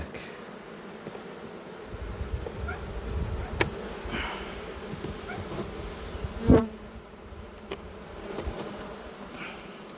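Honeybees buzz steadily around an open hive while frames are checked, a dense, close hum with occasional louder passes of single bees and faint handling knocks, no voices over it.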